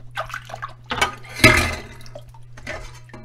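Raw red snapper being rinsed by hand in lemon water in a kitchen, with a few separate splashes and drips and a louder slosh in the middle, close by with short quiet gaps.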